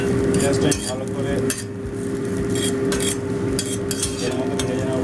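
Onions fry toward brown in a pan for bhetki kata chorchori, a loud continuous sizzle punctuated by repeated scraping strokes of a spatula and metallic clatter.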